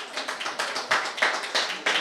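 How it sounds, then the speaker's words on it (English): An audience claps together at a candidate forum, a dense patter of hands in a few swelling bursts, moderately loud and steady, with no speech over it. "Yeah, you can clap about that."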